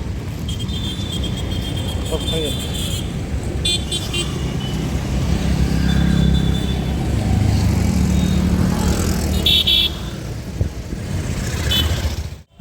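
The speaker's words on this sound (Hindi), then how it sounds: "इतना सारा ट्रैफिक जाम रहता है यहाँ पर" Congested road traffic in a jam, a constant loud rumble of idling and creeping engines with scattered horn toots and passing vehicles, heard close by throughout.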